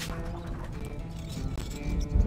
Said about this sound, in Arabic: الفرس تعدو